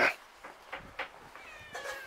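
A cat meows several times in a row, fairly faint and a little distant, with short calls spaced about half a second apart and a longer drawn-out meow at the end, no talk.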